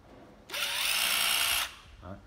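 A cordless hammer drill hammers in one loud, continuous burst lasting about a second, followed by a brief softer whirr as it spins down.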